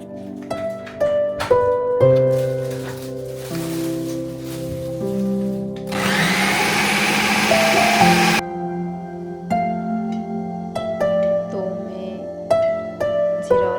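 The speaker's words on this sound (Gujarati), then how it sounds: "આમાં પકોડા માટે મેં ચણાનો લોટ આમાં મિક્સરમાં નાખી દીધો છે" A mixer grinder blends gram flour batter for pakoda in one loud burst of steady whirring lasting a couple of seconds, set between stretches of tonal background music.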